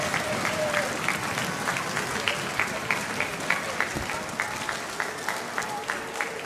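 An audience at a school orchestra concert applauds the advanced orchestra and alumni, a full, continuous roar of clapping with a faint rhythmic pulse running through it and some crowd voices mixed in.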